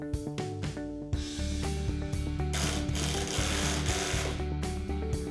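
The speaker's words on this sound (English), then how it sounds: "Install 2 number 10 by 1 1/4 inch security screws through the holes in the strike plate." Number 10 by 1 1/4 inch security screws driven through a door strike plate by a power driver, a steady whirring motor with ratcheting clicks, close and continuous, with brief stops at the start.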